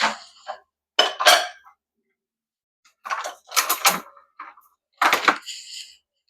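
A metal spatula scraping and clanking against a cooking pan in a home kitchen, several short, loud, close bursts of scraping separated by brief silences.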